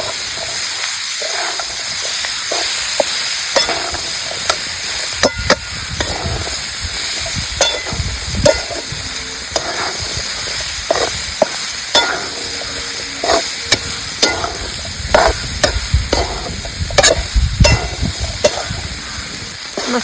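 Ghevda flat bean bhaji being stir-fried in a kadhai, with a steady sizzle under repeated scraping and clanking of the spatula against the pan, close and fairly loud with no talking.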